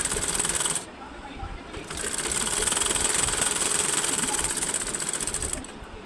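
A sewing machine stitches a cross belt with a rapid, steady mechanical whir, pausing briefly and then running on continuously, while a person talks over it.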